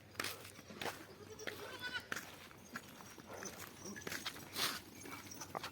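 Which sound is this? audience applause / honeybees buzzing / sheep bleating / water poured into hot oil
sheep bleating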